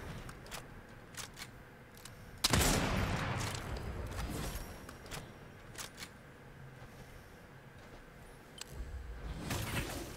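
Gunfire in an online shooter game, including sniper shots: a single loud, sharp burst near the middle with a trailing rumble, scattered short cracks before and after, and a faint steady background.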